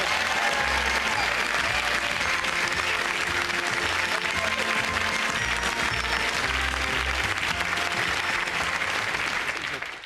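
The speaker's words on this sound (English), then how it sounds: "Give him a round of applause." Loud, sustained applause from a large audience, steady clapping filling the room for about ten seconds, tapering slightly at the end.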